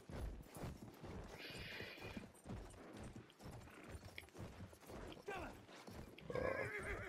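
A horse in a video game whinnies loudly and clip-clops its hooves close by, mixed with clattering game action and rising bursts of noise.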